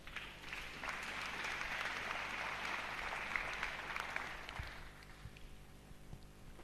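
A church congregation applauds at a sermon, a broad wash of many hands clapping at a distance that holds steady for about five seconds and then thins out, fairly quiet overall.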